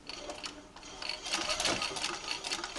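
A treadle sewing machine runs with a spring coil belt on its flywheel, giving a steady, close mechanical whir and light rattle that swells slightly louder partway through.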